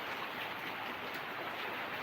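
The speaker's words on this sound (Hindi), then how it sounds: "बहुत बारिश हुआ है, बहुत बारिश हो रहा है अभी।" Steady, dense downpour of heavy rain, a continuous loud hiss with no break and no voices.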